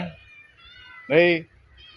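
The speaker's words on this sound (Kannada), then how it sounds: "ಮನೆಯ ಬೆಕ್ಕಿನ ಮರಿ" A house kitten gives one clear, close meow midway, short and bright, amid a quiet backyard setting with faint background tones and small sounds.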